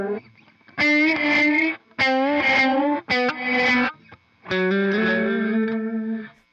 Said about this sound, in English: We're into reverse reverb now.